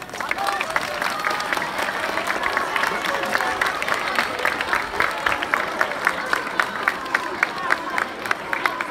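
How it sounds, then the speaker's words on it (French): A crowd at a running race's results ceremony applauds the runners with steady, dense clapping throughout, mixed with light crowd murmur and a few scattered cheers. "commencer par tous vous applaudir."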